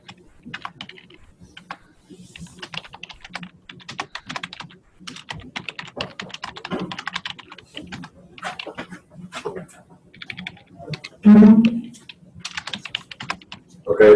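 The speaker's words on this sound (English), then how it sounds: "I think he's typing a response." Rapid, irregular clicking of typing on a computer keyboard at a lecture, fairly faint and close, with occasional quiet room noise and a brief louder bump near the end.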